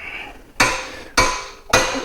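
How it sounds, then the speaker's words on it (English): A hammer swung two-handed strikes the ball joint on a 1999–2004 Jeep Grand Cherokee WJ: three loud, ringing metallic blows at an even pace, each decaying before the next. "So you can use two hands and swing the hammer."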